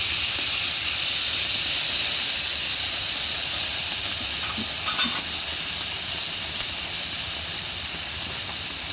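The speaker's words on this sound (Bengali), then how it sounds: "এই কাঁকড়াগুলোকে আমি হালকা একটু ভেজে নেব, খুব কড়া করে ভাজবো না" Mud crabs frying lightly in mustard oil, a loud steady hiss of sizzling oil running unbroken throughout with a couple of faint clinks midway, no talking.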